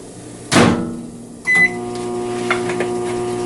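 A microwave oven shuts with a thud, then a beep and click start it running with a low steady hum, close and alone.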